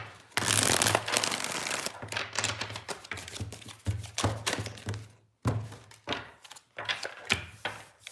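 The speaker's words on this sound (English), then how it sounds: "Last shuffle." Tarot cards being shuffled by hand in repeated bursts, crisp riffling and soft thumps of the deck close up, separated by brief pauses, with a low steady hum underneath.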